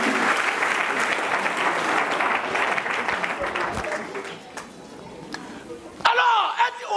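Congregation in a church applauding and cheering, a dense sustained wash of clapping and voices that thins toward the end before a sung or spoken voice cuts in.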